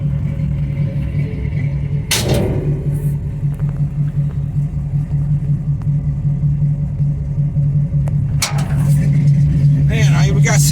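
A 1955 car cruising on the road, its engine giving a steady low rumble from inside the cabin, with a couple of brief clunks and a little noise toward the end.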